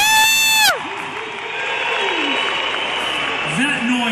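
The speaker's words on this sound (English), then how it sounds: "that noise that you made just now, the clapping, the whistling, the yelling" A concert audience at a show in Portugal breaks into loud cheering, whistling and yelling, a sharp whistle first, then a sustained roar of crowd noise with clapping and shouts.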